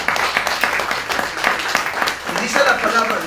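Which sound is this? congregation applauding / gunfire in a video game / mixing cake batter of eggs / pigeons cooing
congregation applauding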